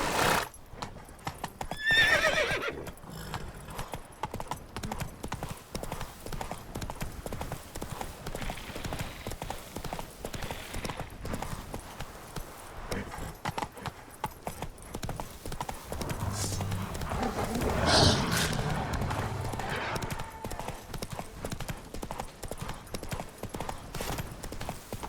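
Roach, the horse in The Witcher 3 video game, trots with steady rhythmic hoofbeats throughout. There is a whinny near the start, a voice speaks briefly, and a louder swell of movement comes midway.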